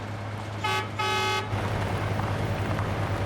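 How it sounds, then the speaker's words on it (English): A vehicle horn honks twice in quick succession, loud and close, over a low idling engine rumble. "Honk your horn, maybe he'll see us."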